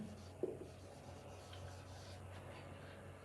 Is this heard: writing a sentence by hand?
yes